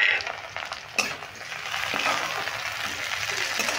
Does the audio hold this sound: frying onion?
yes